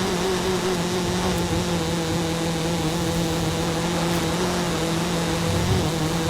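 A Peugeot 205 4x4 climbing a steep, bumpy hill, its engine holding a steady, loud drone with strong low harmonics throughout, no voices over it.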